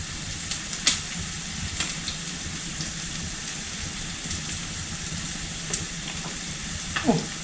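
Chopped onion sizzles steadily in a hot pan, cooked alongside potato dumplings with pork cracklings, with a few sharp clinks of a spoon stirring it at intervals and no voices.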